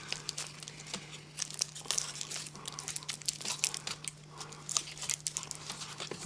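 Tape crinkles and tears in uneven bursts as it is wrapped around a homemade Irish drum, with close, dry crackling and a steady low hum underneath.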